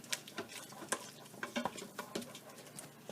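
A spoon stirring ground flax seeds into a lentil-oat breakfast, soft irregular scraping and clinking strokes against the pot, close and quiet with brief sharper taps.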